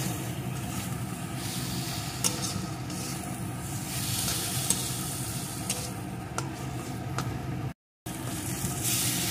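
A spicy grated filling for patishapta is stirred in a hot pan, giving a steady, close sizzle with occasional soft scraping knocks running throughout.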